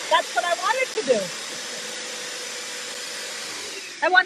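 Vacuum attachment kit running on a sewing machine, a steady airy roar beneath someone talking at the start and end.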